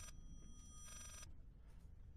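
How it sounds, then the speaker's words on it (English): In the horror game Layers of Fear, a telephone bell rings in brief bursts, clear but not loud, over a low rumbling room tone. "The phone is ringing."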